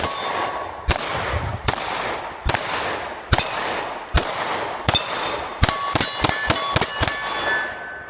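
Rounds fired from a Smith & Wesson Shield X pistol with a 3.6-inch barrel ring out loud and close, about a dozen sharp cracks, spaced shots first and then a rapid string, each with a ringing tail.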